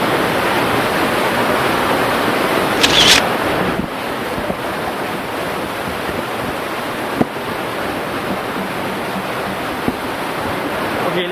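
A waterfall roars steadily as a dense, broadband wash of falling water, loud and close, with a brief click partway through and no talking.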